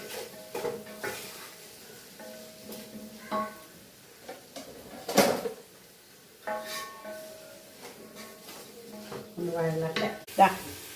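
Chopped tomato goes into a pan of fried masala for a mutton curry, sizzling steadily under repeated stirring scrapes and light clinks of a spoon against the pan.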